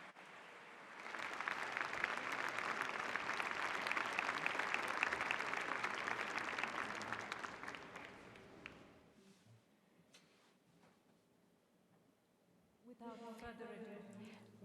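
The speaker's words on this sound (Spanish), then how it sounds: "Vamos a darles otro gran aplauso" Audience applause after a cultural performance showcasing Mexican diversity at the Mondiacult 2022 opening ceremony, a dense sustained crowd clapping for about eight seconds before fading, followed by quieter room sounds and a voice starting to speak.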